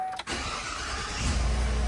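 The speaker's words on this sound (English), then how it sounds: "So I'm going to turn on the truck." A 2025 Chevy Silverado 2500 HD turning on: a brief electrical whir and click, then a steady broadband engine rumble that builds and settles into a loud, close idle.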